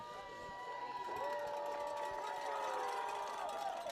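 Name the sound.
excited homecoming crowd at a high school football game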